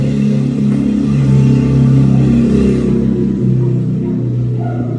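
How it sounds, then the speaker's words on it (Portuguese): Cars pass nearby on a street with a loud, steady engine drone and revving rumble, one of them a Kombi, fading somewhat toward the end. "ainda passaram uns carros fazendo barulho aí"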